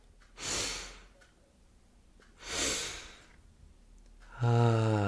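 Two long, breathy sniffing inhales a couple of seconds apart, followed by a voiced exhale sound at the end.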